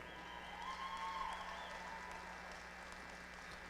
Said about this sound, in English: Let's give these homegrown exhibitors a round of applause.